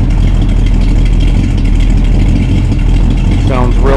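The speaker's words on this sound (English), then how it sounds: "Has a nice little rumble to it with" A 1981 Chevy short box pickup with a 12-bolt rear end and dual exhaust idles nearby, giving a steady, low, even rumble that carries through the whole stretch without revving.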